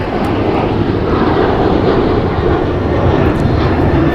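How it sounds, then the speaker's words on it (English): A Korean Air Airbus A380 passes over Los Angeles International Airport with a constant, loud, broadband engine roar that holds steady throughout, with no voices. "It's an Airbus A380."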